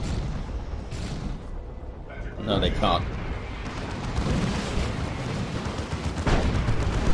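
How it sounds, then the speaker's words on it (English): An assault cannon fires in Dawn of War 2 during a Space Marines versus Tyranids match, with rumbling bursts and booms of battle mixed under a commentator's voice. "It's a lot of damage from that assault cannon."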